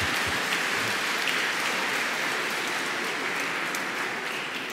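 Conference audience at the Alençon sanctuary applauding, a dense, continuous wash of many hands clapping, loud and even throughout, slowly easing toward the end with no talk over it.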